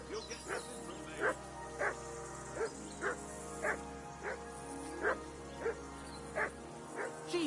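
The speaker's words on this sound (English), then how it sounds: "Jesus, Henry, that barking's driving me nuts." A dog, a mutt, barks in a steady series of about a dozen sharp, evenly spaced woofs at moderate distance, each one standing out clearly over a low background hum.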